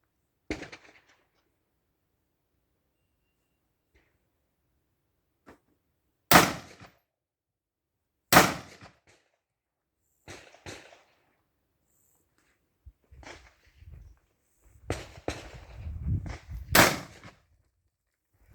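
Sharp, loud carbine gunshots crack out one at a time with long pauses between at a practical shooting training session, followed by softer thumps and movement nearby.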